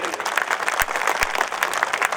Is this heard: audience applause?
yes